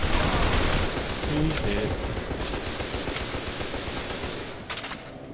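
Enemy gunfire in F.E.A.R. 2 rattles in dense, rapid bursts at steady loudness, with someone briefly speaking over it.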